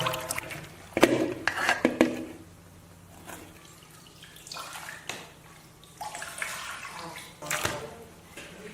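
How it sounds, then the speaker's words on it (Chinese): Running water splashes and trickles as pickled cabbage (suancai) is rinsed by hand in a home kitchen, with irregular bursts of splashing and brief pauses, close and moderately loud with no talk. "现在把酸菜再洗一下"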